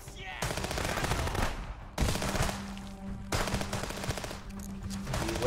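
Loud, close bursts of automatic gunfire from the video game Contraband Police, with sharp cutoffs between volleys and a sustained hum running underneath.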